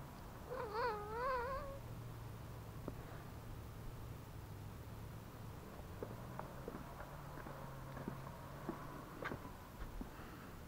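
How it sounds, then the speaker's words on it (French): A cat named Maurice meowing in a Normandy garden: a few quick wavering meows near the start, then quiet ambient noise with faint low hum and scattered soft taps. "Le chat Maurice"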